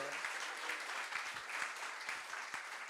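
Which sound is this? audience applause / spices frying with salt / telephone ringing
audience applause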